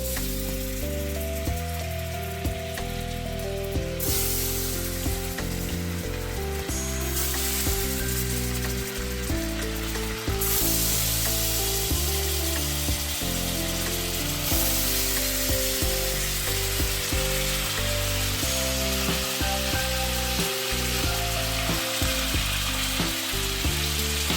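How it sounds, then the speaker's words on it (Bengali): Steady, loud sizzling of rasgullas frying in butter in a kadai, continuous throughout, with occasional clicks and scrapes of stirring. "বাটারে ভাজছি তো, বাটারটা ছানার মতো"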